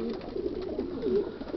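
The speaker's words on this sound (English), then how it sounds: "we've got a really nice set of pigeons" Yearling racing pigeons coo steadily in a loft of about 240 birds, with soft overlapping throaty calls rising and falling close by and no talk.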